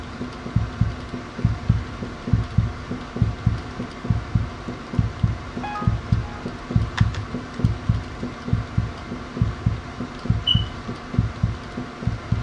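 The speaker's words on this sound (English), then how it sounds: "I hear the heartbeat." Heartbeat sound effect in the Roblox game Flee the Facility, a steady, loud low double-thump pulse repeating quickly throughout, with a few faint game beeps over it.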